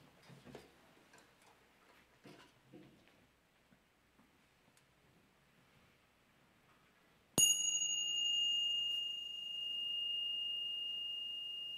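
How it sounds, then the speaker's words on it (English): A chime is struck once after quiet rustling, ringing out with a sharp attack and a clear sustained metallic tone that slowly fades, close and alone. "So I'm going to ring the chimes"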